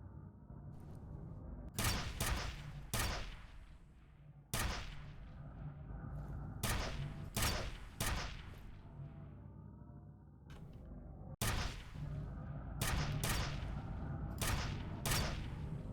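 Heavy gunshots in F.E.A.R. Extraction Point boom out one after another in uneven clusters, loud and close, each with a short rumbling tail over a low droning background.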